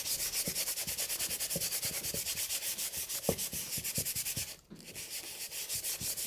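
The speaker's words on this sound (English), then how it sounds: "Then take the coarse sandpaper" Coarse sandpaper rubbed by hand over a small piece of painted wood, a close, rhythmic back-and-forth scratching of even strokes that pauses briefly before carrying on.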